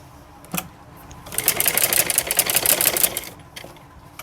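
A sewing machine stitches slowly around a curve on cutwork fabric trim for a palazzo pant, a close burst of rapid clattering stitches lasting about two seconds between quieter handling clicks.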